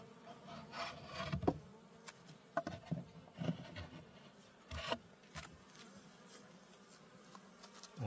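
Bees buzz around Layens hives in short, uneven bursts as individual insects pass close by, with softer rubbing and scraping sounds in between and no talking.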